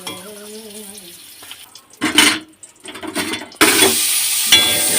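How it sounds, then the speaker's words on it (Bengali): Vegetables for Bengali shukto, including potato and papaya, sizzling in hot oil in a pan, with bursts of loud frying and stirring scrapes that surge and drop, close by and without talk. "ভালো করে ভেজে নেব"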